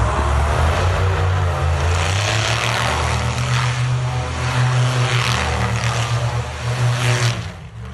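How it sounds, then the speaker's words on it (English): A stout boat engine runs steadily at close range, a loud continuous low rumble and drone holding for the whole stretch before easing off at the end, with no talk over it. "that engine sounds pretty stout"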